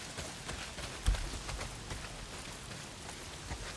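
Rain pouring down in the video game Days Gone, a steady hissing downpour with scattered heavier drops and one sharp thump; no voices.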